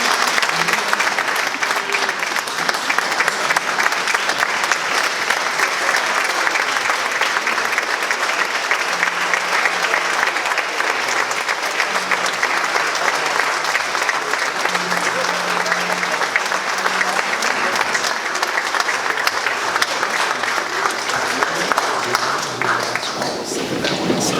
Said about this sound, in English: can we get another round of applause for General Brooks?